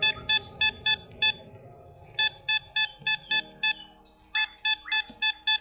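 A Bounty Hunter Lone Star Pro metal detector set to maximum sensitivity signals over a target at 20 cm with a series of sharp, evenly spaced electronic beeps, repeating in steady rhythmic bursts close to the microphone.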